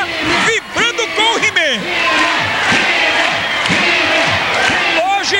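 A loud crowd roars and shouts during a He-Man fighter's bout against 35 men, dense overlapping voices cheering close by, with bursts of yelling that swell and fade across the moment.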